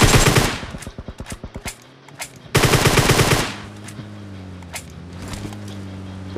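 Gunfire in a video game: rapid automatic bursts, a short pause with a low hum, then another fast loud burst followed by scattered single shots over a steady droning background.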